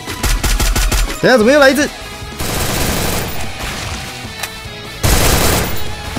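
Rapid MP40 bursts in the Free Fire game, loud staccato volleys at the start and again in later stretches, with a player talking between the shots.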